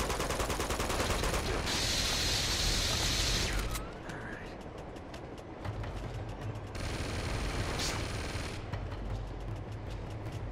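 Sustained automatic gunfire rattles in Uncharted 2: Among Thieves, with long dense bursts separated by a short lull, fairly quiet overall and heard without talk.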